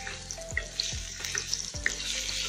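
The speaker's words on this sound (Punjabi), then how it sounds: "ਗਰਮ ਕਰ ਰਹੀ ਹਾਂ ਅਤੇ ਲਸਣ ਪਾ ਦਿੱਤਾ ਮੈਂ ਇਹਦੇ ਵਿੱਚ" Garlic sizzling steadily in a hot pan for pasta, with a continuous frying hiss broken by a few soft stirring knocks, heard close with no talking.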